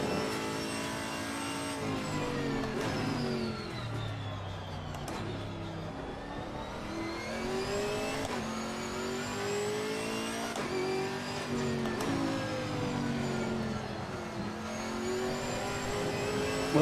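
A GT4 race car engine in Assetto Corsa Competizione, revving up and down through gear changes with rising and falling pitch sweeps, steady and fairly loud throughout with no talk.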